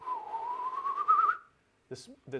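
A human voice whistles to imitate a crossbow bolt flying through the air, a single slightly rising tone lasting over a second before cutting off, followed by brief speech.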